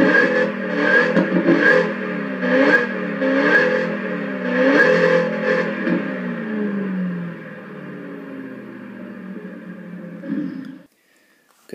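Sturmkind DR!FT Racer RC car running its Performance Kit engine sound rated at 700 horsepower, a loud synthetic engine note revving up and down in repeated swells, then settling into a steady idle before cutting off abruptly near the end.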